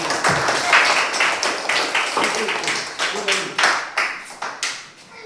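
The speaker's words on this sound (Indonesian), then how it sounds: "silakan tepuk tangan untuk kelompok yang sudah maju" A classroom of students claps for a group during a coding and artificial intelligence lesson, uneven bursts of hand claps that grow sparse and scattered toward the end, with some voices mixed in.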